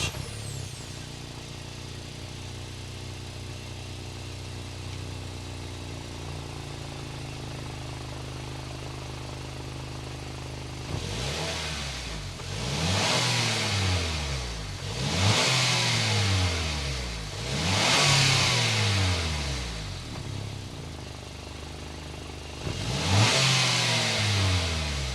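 A 2022 Acura RDX A-Spec turbocharged engine idles quietly, then its exhaust snarls through four or five sharp, loud revs in quick succession, each rising and falling back.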